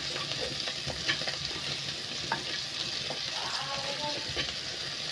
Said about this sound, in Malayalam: അതും കൂടി ഇട്ട് കൊടുത്ത് അതും കൂടിയിട്ട് നല്ലോണം ഒന്ന് വഴറ്റി എടുക്കാം